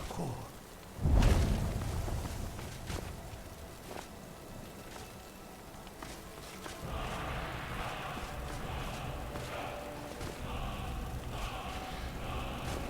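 Storm with a sudden heavy thunder crack followed by a rolling rumble and steady rain hiss, with a faint voice-like sound underneath.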